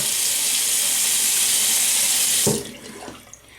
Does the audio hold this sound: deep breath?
no